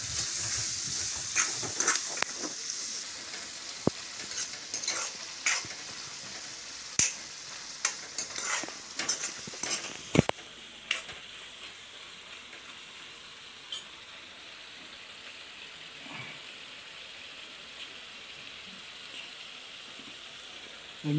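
Light sizzling and frying in a pan while a potato sabji cooks with tomato, with scattered clicks and scrapes from stirring early on, then settling into a soft, steady hiss.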